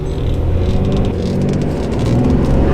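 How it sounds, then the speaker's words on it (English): A 2018 Ram 2500 with a Cummins diesel engine doing a burnout, giving a loud, steady, close rumble of engine and tire roar that holds for the whole stretch with no talking. "Ooh, did a burnout just now."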